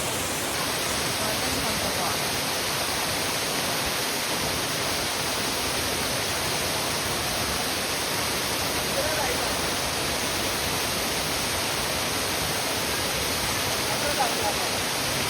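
A waterfall in Maharashtra during the monsoon pours with a constant, full-bodied roar, loud and unbroken throughout.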